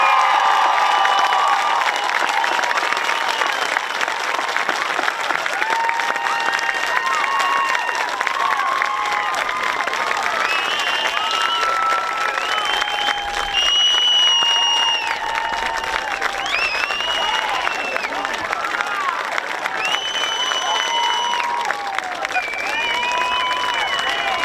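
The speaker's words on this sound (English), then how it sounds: "please join me in a round of applause for Walton Central School's newest alumni, the graduated class of 2021" A crowd at the Walton Central School 2021 graduation ceremony applauds the graduating class, with long, steady clapping mixed with cheers, whoops and high shouted calls rising over the applause throughout.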